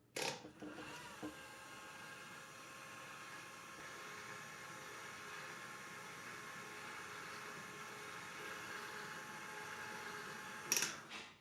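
A KitchenAid Artisan Mini stand mixer runs at speed 2 on yeast dough with flour, sugar, salt and olive oil, giving a steady, even motor whir. It carries on alone from start to finish, with a clunk at each end.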